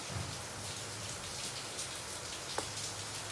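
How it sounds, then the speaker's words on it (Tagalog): Heavy rain falls in a continuous, fairly soft hiss with one brief knock partway through, and no voices. "ang lakas ng ulan guys"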